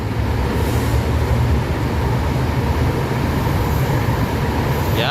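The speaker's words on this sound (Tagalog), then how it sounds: "So ayan na po yung train na dadaan po, no." An LRT-1 third-generation light rail train rolls past at night, a loud, steady rumble and rail roar that stays close throughout.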